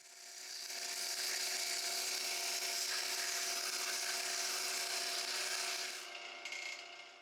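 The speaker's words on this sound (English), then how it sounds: "I did quite a bit of sanding at 120 grit to clean up much of the tear out" Sanding a spalted maple wine bottle stopper with 120 grit sandpaper makes a continuous, close, hissing rasp for several seconds before it tapers off.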